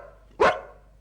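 A single sharp dog bark, close and clear, rising out of quiet room tone and fading quickly.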